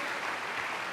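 Church congregation applause during a sermon, a brief continuous burst of clapping that stays even and full throughout.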